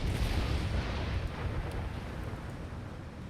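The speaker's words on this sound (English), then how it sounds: "The mortars and cannons from their walls are firing" Mortar and cannon fire from fortress walls in Empire Total War, a dense rumbling wash of distant artillery booms blending into continuous low battle roar, fairly faint and steady with no clear single shots.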